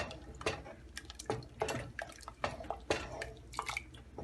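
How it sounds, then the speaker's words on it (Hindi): Water is poured into a metal pot of daal, dripping and splashing in short uneven bursts close by, with faint clinks of the pot. "2 कप पानी और डाल देंगे"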